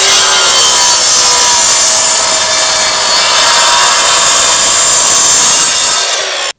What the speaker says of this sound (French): Et on va les couper à la scie radiale.